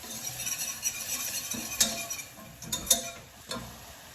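A spoon stirs white sauce with pepper in a pan, making soft scraping swirls and a few light clinks against the metal over a faint sizzle.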